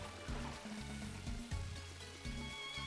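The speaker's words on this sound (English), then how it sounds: "Okay, we can swim this waterfall." Steady rushing water from a waterfall in a Kingdom Hearts video game pours continuously, with game music and low tones layered over the splashing.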